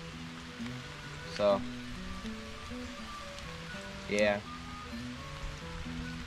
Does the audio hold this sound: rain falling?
yes